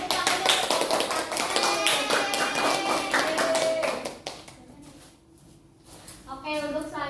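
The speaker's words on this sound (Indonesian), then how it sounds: "Oke, boleh dikasih tepuk tangan untuk kelompok" Classroom applause for a student group that has just presented, with broadband clapping for about four seconds that then fades, and children's voices talking over and after it.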